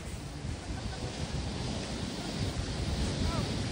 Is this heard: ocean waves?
yes